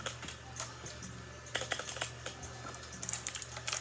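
Typing on a new Ducky mechanical keyboard, a quiet close run of light key clacks that starts sparse and grows into quicker irregular bursts in the second half.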